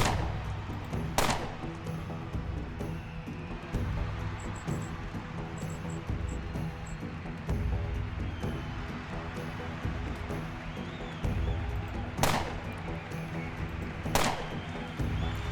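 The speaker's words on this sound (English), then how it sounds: "we'll go ahead and take a few shots" Gunfire in the turn-based game Underrail, a few sharp isolated shots spaced apart over a steady low hum and ambient game background, no talking.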